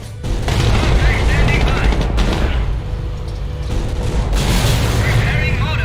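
Gunfire and explosions roar around an AA battery in the Company of Heroes video game, a dense continuous barrage of booms and rattling shots with a brief radio-style voice speaking over it.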